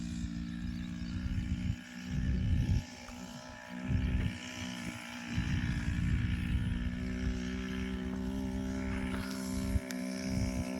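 A motorized pesticide sprayer runs while spraying a groundnut crop in the field, a steady droning engine hum with pulsing louder surges and spray hiss, close and continuous.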